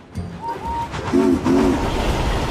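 A goods train rolls along the track while its horn or whistle sounds in short, loud tones, with steady rumbling underneath and no talking.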